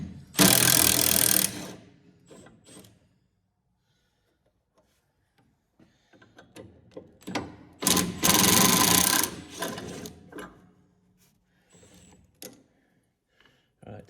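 Ratchet work on the motor retaining bolts of a Först TR8 D55 wood chipper, heard as two loud bursts of rapid mechanical clicking separated by quiet handling and scattered small knocks.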